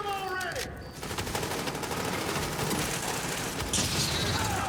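Video game gunfire crackles in dense, continuous bursts of rapid shots under game voice lines and a player talking, loud and close throughout.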